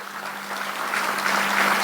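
An audience at a national day of tribute ceremony claps, a dense wash of applause building steadily in loudness over a couple of seconds, with a low steady hum beneath.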